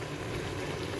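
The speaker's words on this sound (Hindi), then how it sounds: "अब हम इसके अंदर पानी डाल लेंगे।" Water poured into a hot pan of roasting chickpeas, giving a brief, faint, even hiss and bubbling with no voices.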